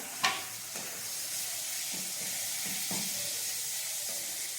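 Tomatoes tossed into onions frying in a pan for chicken gravy, a brief splash followed by a steady close sizzle with a few soft stirring knocks.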